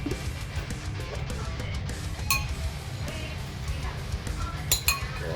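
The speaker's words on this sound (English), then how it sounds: "Now we will stir in the bacon." A utensil stirs bacon into a pot of loaded potato soup on low heat, making a few sharp metallic clinks against the pot over a steady low background hum.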